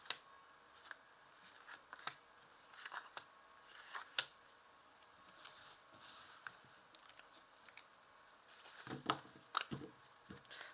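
Tarot cards being drawn and handled one after another, with soft papery slides, flicks and small taps arriving in irregular bursts, close and quiet, with a busier cluster of card sounds near the end.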